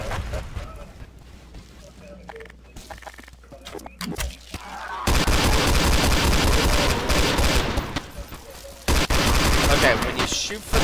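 In SMOD, quiet rustling and stray shots give way to loud, rapid bursts of gunfire aimed at zombies, heavy sustained volleys with short gaps, close and dominant.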